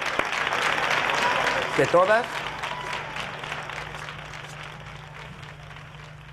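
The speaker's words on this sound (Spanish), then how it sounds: "¡Ese fuerte aplauso para ti, hombre!" A television studio audience applauds a magician after a card trick, a dense burst of clapping under a voice that fades away over a few seconds.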